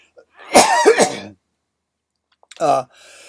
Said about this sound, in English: I got a cough. Sorry.